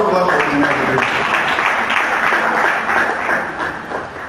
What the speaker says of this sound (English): Can we clap for engineers?